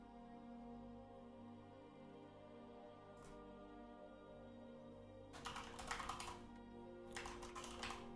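Keys clatter on a computer keyboard in two quick bursts of fast typing over a steady low background hum, with a faint single tap earlier and no voices.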